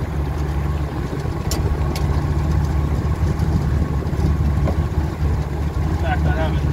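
A new 2019 Yamaha 40 HP two-stroke outboard motor runs steadily on an aluminium tinny, a constant low engine drone close by with water wash and faint sounds of activity on board.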